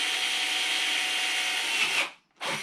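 A power drill bores a hole during a boost gauge install on a Mk7 VW Golf R, running in one steady, loud whine for about two seconds, then cutting out briefly before spinning up again.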